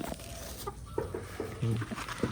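Chickens cluck and call at morning feeding time in a yard after a flood, with short, close bursts of clucking over a steady, noisy background.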